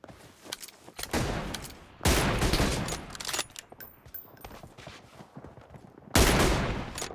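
Bursts of rapid automatic gunfire in a mobile battle shooter game, three loud volleys separated by brief pauses, with scattered single shots in between.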